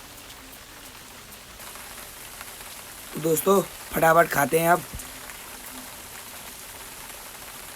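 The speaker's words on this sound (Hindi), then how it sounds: "बाहर हो रही है बारिश" Heavy rain falls steadily outside a tent during a solo camping trip in a thunderstorm, a constant broadband hiss running throughout, while someone speaks briefly in the middle.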